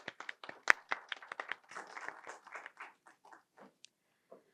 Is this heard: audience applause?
yes